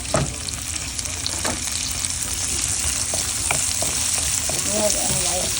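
Garlic sautéing in a hot pan for pork menudo gives a steady, close sizzle with a few light stirring taps and scrapes. A voice briefly murmurs near the end.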